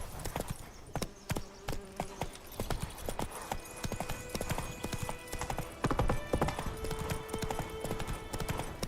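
Roach, a horse in The Witcher 3 video game, clip-clops along in a brisk, uneven run of sharp hoofbeats, close and fairly quiet, with faint game ambience and no talking.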